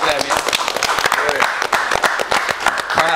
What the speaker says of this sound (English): Y'all clap for that, man. Clap for that, man.